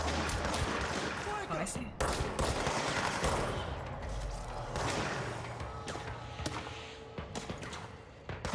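Bursts of gunfire rattle through a firefight in the video game Control, dense overlapping shots and impacts rolling on for several seconds amid a noisy mix, with a person speaking briefly over it.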